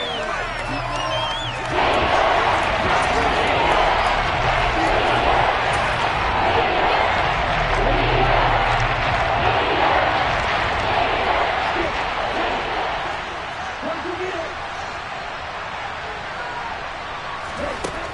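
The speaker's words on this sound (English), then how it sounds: "Plenty of shouts from this crowd as they watch the replay." A football stadium crowd at a Falcons versus Commanders game shouts and roars steadily while watching a replay, with commentary voices talking over the continuous noise.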